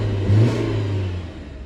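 A stock BMW 1 Series engine revs once at close range, a short rise in pitch and then a steady mid-range drone fading slightly, with no voices.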